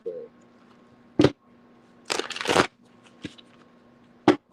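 A deck of tarot cards being shuffled by hand in a quiet room: a few sharp riffling bursts and snaps separated by pauses, with one longer ruffle in the middle.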